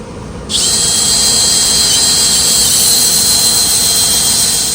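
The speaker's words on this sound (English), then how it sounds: "I'm going to start with 120 on the drill." A high-pitched whine starts abruptly and holds steady, a spinning drill driving 120-grit sandpaper against wood turning on a lathe, loud and close with no talking.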